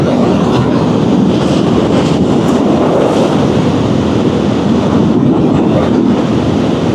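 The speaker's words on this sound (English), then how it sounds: "there's a lot of wind coming onto me at some 50 mile an hour here" Wind buffets a rider on a Triumph Scrambler 400X motorcycle at about 50 mph, a loud steady roaring rush that covers everything else, with no speech.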